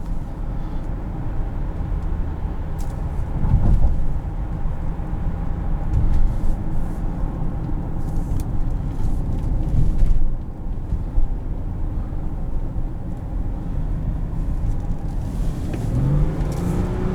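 Engine of a 2013 Subaru Tribeca Limited 3.6R driving over cobblestones, a steady low rumble with rising revs and brief louder surges, heard close from inside the cabin with road rattle underneath.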